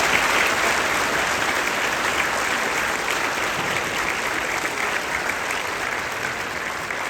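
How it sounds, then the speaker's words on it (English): A high school audience gives a speaker a sustained round of applause, a loud, continuous wash of many hands clapping that tapers slightly toward the end. "Let's give one more round of applause to Mr. Brown for that."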